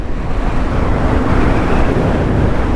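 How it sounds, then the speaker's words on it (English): Strong wind roars steadily across the microphone during a bike ride on the Robin Hood Loop in North Nottinghamshire, a loud, unbroken broadband rush with no other sounds standing out. "it's absolutely glorious today, but it is mega windy"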